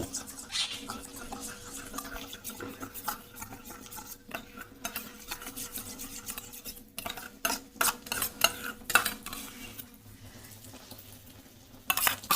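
A spoon briskly whisks sour yogurt in a bowl for a spicy crab curry, producing rapid, irregular scraping and tapping clicks close by, continuous with short pauses and faint background hiss.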